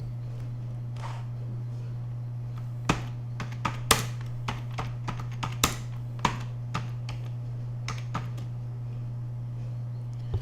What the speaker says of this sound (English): Now we want to type the title.